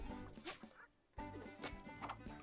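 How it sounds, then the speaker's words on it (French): Chicken in the video game Super Lucky's Tale clucks in short bursts, a few clucks, a brief silence, then more clucking, faint and game-like. "C'est une poule invincible en fait."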